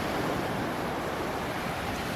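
Ocean waves wash onto a beach in Wuhan as a dense, continuous rushing roar, broad and unbroken, with wind buffeting the microphone.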